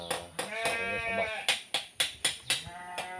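Goats bleat repeatedly in a rural farm setting, a series of short wavering calls in quick irregular succession, fairly close and clear with no talking over them.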